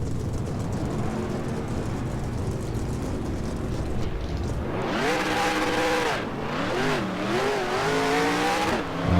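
Race car engines roaring in the NASCAR Racing 2003 video game, a loud steady rumble that surges into rising and falling revs as cars accelerate and shift, with no talking.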